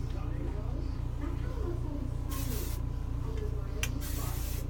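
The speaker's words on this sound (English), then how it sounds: "And I spray it all over the outside." Heat protectant hair spray hisses out in a few short bursts over a steady low background hum, sprayed onto hair before curling with a three-barrel curling iron.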